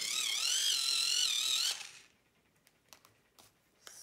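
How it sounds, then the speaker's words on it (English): A small battery-operated pencil sharpener whines loudly for almost two seconds as it grinds a coloured pencil, then cuts off, leaving a few faint clicks and taps. "So I'm just using a little battery operated sharpener there."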